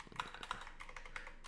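Several quick keystrokes tap on a computer keyboard, soft and close, in an irregular run of clicks.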